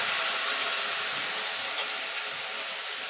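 Water poured into a pan of rice frying on a gas flame at low to medium heat for basanti pulao sets off a loud, continuous sizzling hiss that stays steady throughout.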